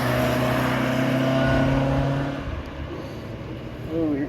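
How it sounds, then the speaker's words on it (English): Ford Mustangs at a touge event drive past with a loud engine roar that holds steady and then fades, with a brief rise near the end. "Oh, here comes the Mustangs."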